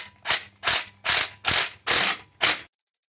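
Six quick, evenly spaced ratchet bursts, loud and close, as valve cover bolts are snugged down on a 2013 Mini N16 engine, then silence.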